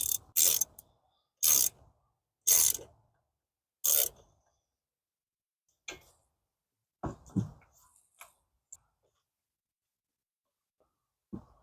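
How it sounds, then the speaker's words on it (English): A ratchet with an 8mm socket clicks in four short, sharp bursts while tightening a part during a serpentine belt change on a 2011-2014 Ford F-150, followed by scattered quieter knocks and handling sounds. "Get your flathead or 8mm socket. Make sure to tighten it up."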